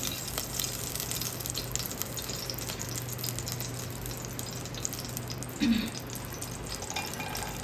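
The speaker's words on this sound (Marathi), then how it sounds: "जरा मखाने आहेत ते तुपावर जरा परतून घेणार आहे" Fox nuts (makhana) roasting in ghee on a slow flame, a soft, continuous close sizzle and faint hiss with a brief scrape or clatter near the end, otherwise steady and undisturbed, no talking.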